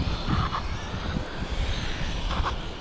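A Losi Promoto-MX RC motorbike riding around a skate park, its small electric motor giving a steady buzzing whir with bursts as it accelerates, close and continuous.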